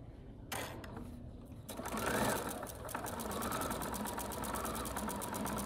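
A sewing machine runs steadily, stitching a half inch seam on quilt piecing, its fast even needle chatter starting after a few brief bursts and continuing close and loud.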